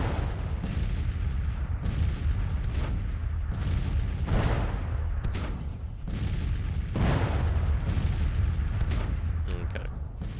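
Artillery bombardment in the Civil War strategy game Grand Tactician: The Civil War, a steady run of heavy booming cannon shots and blasts at irregular intervals across the whole stretch, loud and continuous.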